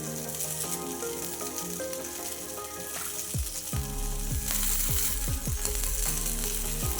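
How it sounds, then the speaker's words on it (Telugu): Paneer tikka sticks roast with oil on a flat pan over high flame, a continuous sizzle and hiss broken by several clattering knocks and scrapes as the skewers are shifted, with a low hum underneath. "ముందు 1 నిమిషం పాటు స్టవ్ని హై ఫ్లేమ్లో పెట్టుకొని కాల్చాలండి."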